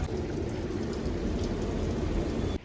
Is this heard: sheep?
no